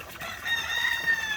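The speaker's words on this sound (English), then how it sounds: "Oh, that is my copper Moran rooster" A Copper Maran rooster lets out a single drawn-out crow, moderately distant and fairly quiet, heard alone on a farm.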